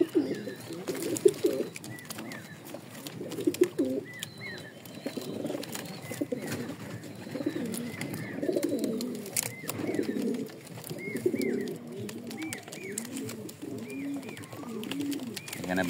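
Racing pigeons coo in a loft, soft overlapping throaty calls repeating throughout from several birds nearby, with occasional faint chirps and rustling in the background.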